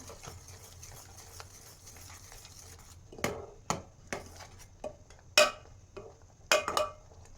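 A spoon scrapes and clinks against a pot while dal mixture is stirred, a hushed background at first, then a handful of sharp, irregular metallic knocks in the second half, close by.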